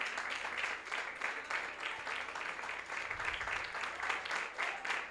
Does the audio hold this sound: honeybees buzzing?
no